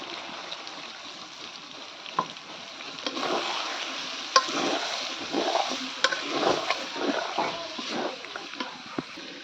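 Yogurt goes into biryani masala in a pan and is stirred in. A soft, continuous hiss of cooking runs under scattered wet taps and scrapes from the spoon, at moderate loudness.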